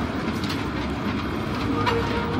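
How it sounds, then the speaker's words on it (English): A small children's ride train at a Wiesbaden Christmas market rolls past close by, its steady rumble and rhythmic clickety-clack of wheels running continuously without any talk. "Here comes the train."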